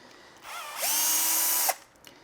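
A power drill spins up to remove screws from the bottom of a Traxxas Sledge RC truck chassis, a short close whine that ramps up, holds steady for about a second, then cuts off.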